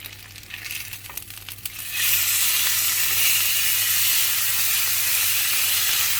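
Ribeye steaks sizzle loudly in a hot frying pan, a steady bright hiss that swells abruptly after a quieter start with light clatter, then holds constant and close.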